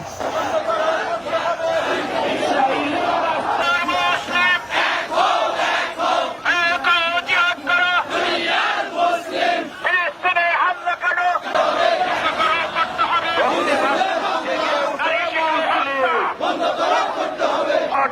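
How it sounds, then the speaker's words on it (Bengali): A large crowd at a protest march at the north gate of Baitul Mukarram shouts rhythmic slogans in unison, loud and continuous, with lead calls and massed answering voices. "গাজায় ইসরায়েলি গণহত্যা ও বর্বরচিত হামলার প্রতিবাদে বাইতুল মুকরমের উত্তর গেটে বিশাল বিক্ষোভ মিছিল করেছে"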